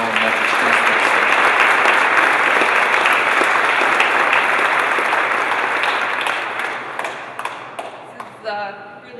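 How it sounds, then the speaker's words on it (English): A large audience applauds a living donor at a hospital honor-wall unveiling, with steady dense clapping filling most of the clip before thinning out, and a voice begins speaking at the end. "Please join me in welcoming a very large round of applause for Susan Morgan, living donor at our own Me"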